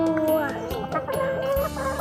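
Hens cluck in a coop built from old red barrels, several birds calling close by in short, overlapping bursts, with a longer drawn-out cackle running through.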